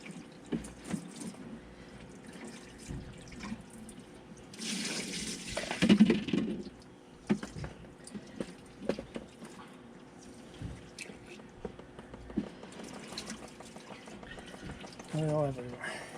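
Engine oil pours and splashes from an overflowing funnel during 100-hour maintenance on a Yamaha VMAX 200 outboard, with a brief gushing burst midway among quieter drips and faint voices.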